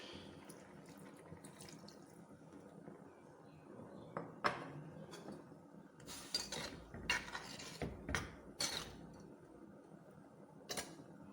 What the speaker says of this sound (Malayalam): ശർക്കര പാനി ഒഴിക്കാം.